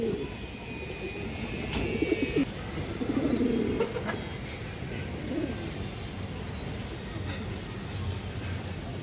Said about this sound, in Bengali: দুইটা খরা নর কবুতর মাশাআল্লাহ